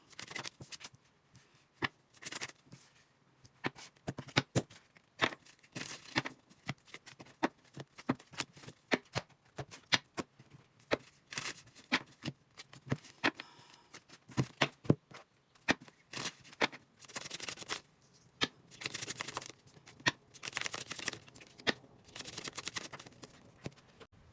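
Tarot cards being shuffled over and over in quick, papery riffles and snaps, close and fairly quiet, with an irregular rhythm throughout.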